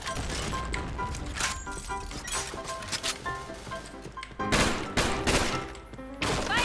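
An RPD heavy machine gun fires in a first-person shooter game, dense sustained bursts of sharp cracks and impacts, close and loud, with brief gaps between volleys.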